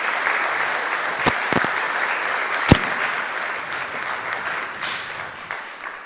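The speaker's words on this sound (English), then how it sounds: "So let's have a big round of applause for Nick for coming out today." A room of attendees gives a big round of applause for film matte painter and art director Nick Hiatt: steady, fairly loud clapping with a few sharp individual claps standing out, tapering slightly toward the end.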